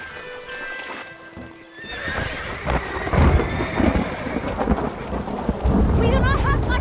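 Horses hitched to a stagecoach in the Red Dead Redemption video game whinny and stamp amid rolling thunder and rain, with a low rumble building to loud storm noise and a neigh near the end.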